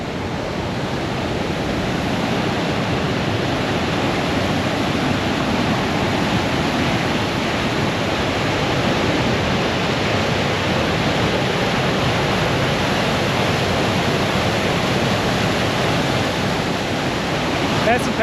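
A powerful waterfall rushes in a constant, dense roar of falling water that holds steady and loud throughout, with no pauses or breaks.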